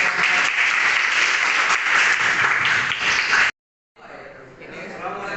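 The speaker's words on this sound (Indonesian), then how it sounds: "Beri aplaus untuk" Classroom applause from a group of students, dense steady clapping that fills the room, then cuts off abruptly before softer scattered clapping and murmuring resume.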